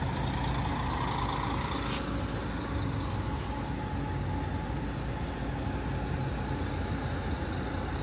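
Buses arriving at Curitiba bus station, a loud continuous diesel engine rumble with a hiss of air brakes early on, close by, no talking.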